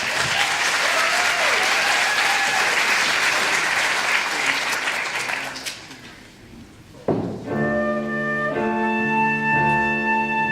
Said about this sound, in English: A round of applause for Field End,